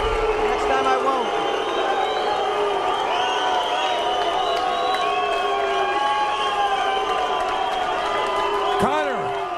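A fight crowd cheers and roars after a unanimous-decision win for a fighter at a ShoXC event, the broad crowd noise running under someone speaking close to the mic.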